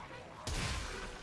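A single heavy blast from the Incarnon Strun Prime shotgun in Warframe, sudden and loud, followed by a rumbling tail that fades slowly over about a second.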